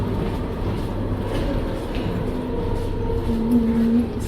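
A mountain train climbs through the Alps toward Jungfraujoch, carrying a steady low rumble and hum heard from inside, with no one talking.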